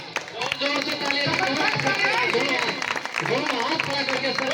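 An indoor meeting audience claps for Sanjeev sir, dense rapid hand-claps filling the room steadily, with crowd chatter and voices mixed in throughout.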